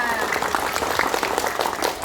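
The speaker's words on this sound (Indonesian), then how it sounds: "sekali lagi tepuk tangan yang meriah ya" Audience applause for Ibu Elita at a school talk show on literacy at SMPIT Insantama, a steady wash of many hands clapping with voices mixed in throughout.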